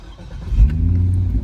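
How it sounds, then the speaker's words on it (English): A 2006 Chevrolet Corvette C6 V8 with a MagnaFlow exhaust starts up with a push button, its engine catching with a deep, loud low rumble that settles into a steady idle. "We'll go ahead and get this thing fired up so you guys can hear it run."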